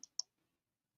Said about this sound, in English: Sometimes I'll lose track of what I'm typing here.